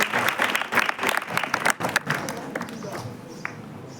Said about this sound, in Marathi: आपण जोरदार टाळ्या वाजवूया सरांसाठी.